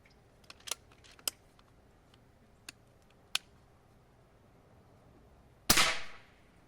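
An Umarex Iconix air rifle fires once, a sharp, loud crack with a brief airy tail, after a few faint clicks and ticks of handling.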